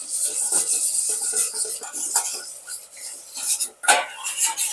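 A spoon scrapes and clinks against a pan while chicken and yogurt are mixed together, giving an uneven, close run of metallic strokes with a few sharper knocks.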